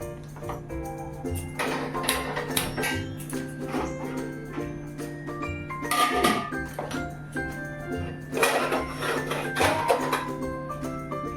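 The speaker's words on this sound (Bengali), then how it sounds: "তো চালটা ধুয়ে নিলাম, এখন এই যে হাঁড়িতে দিয়ে দিচ্ছি" Rice being washed by hand in a cooking pot at home, with repeated close clinking, rattling grains and metal taps in an uneven rhythm over a low steady hum, with occasional faint voice.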